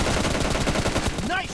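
Rapid automatic gunshots from the mobile shooter BGMI fire in a quick steady burst of evenly spaced cracks, ending in a brief electronic tone.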